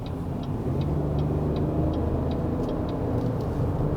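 A 2019 Chevrolet Colorado pickup driving at night through Seoul's Gangnam streets gives a steady low engine and road drone, with a faint regular ticking, likely the turn signal, clicking over it.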